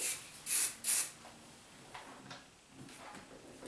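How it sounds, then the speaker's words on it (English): Two short, sharp aerosol hisses from a hairspray can close by, sprayed onto the back of the hair while styling a cheer poof, followed by quiet rustling and faint handling noises. "comb up my baby hairs and spray the back"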